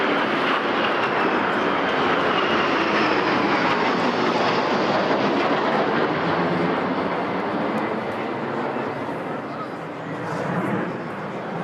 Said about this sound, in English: And now one Rivet joint, which is escorted by two Lightning.